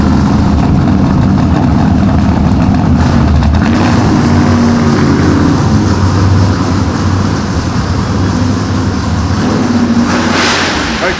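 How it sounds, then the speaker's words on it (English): A 900-horsepower all-wheel-drive trophy truck engine rumbles loudly up close, idling rough and then revving in strong surges, staying loud throughout. "when he fires it up, it is gonna get loud"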